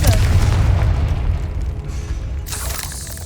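A Confringo fire spell cast in Hogwarts Legacy bursts as a heavy, booming explosion at the start, its low rumble fading over a few seconds, followed by a fainter second burst near the end.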